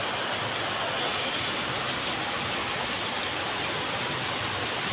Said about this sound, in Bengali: হঠাৎ দেখি বৃষ্টি আসতেছে